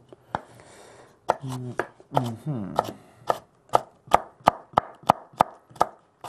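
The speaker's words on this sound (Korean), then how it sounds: "저는 요 파프리카 채칠게요." A knife chops through a bell pepper on a cutting board, with a steady run of sharp, close, evenly spaced cuts that speed up after a brief pause.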